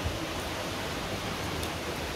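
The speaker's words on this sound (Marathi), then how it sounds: "हे बघा चांगलंच पावसाने जोर धरला आहे" Heavy monsoon rain pouring down in a steady, dense hiss, close and continuous with no pauses or voices.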